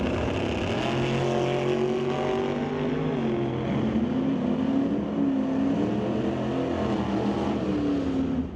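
Drag racing run between a dragster and a Chevy II, with loud, continuous engine roar and shifting harmonic tones held steady for several seconds, no talk over it.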